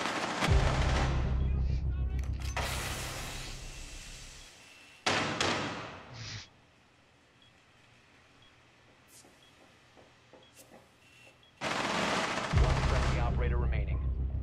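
Loud gunfire bursts in a shooter video game come in three clusters, rapid automatic fire with sharp reports close at hand, separated by a quieter stretch of faint distant shots and ambient game noise.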